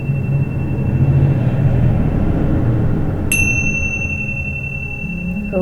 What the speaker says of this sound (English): Awaken to the sound of the tingsha bells